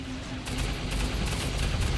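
Weapon fire in the video game Global Agenda, aimed at droids and strong against mechanical targets, comes as a dense, steady burst of shots for about two seconds after a brief quieter start.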